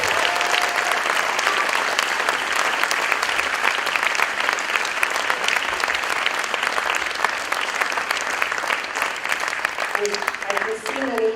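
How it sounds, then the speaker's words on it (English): Audience applause fills a school auditorium after a middle school winter music concert, steady dense clapping from a large crowd throughout, with a few voices and a brief tone emerging near the end. "Let's give them all one more round of applause."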